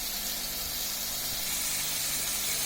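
Eggplant pieces dropped into hot oil for a tangra fish curry, giving a steady broadband sizzle and hiss that holds fairly constant throughout, with no talk.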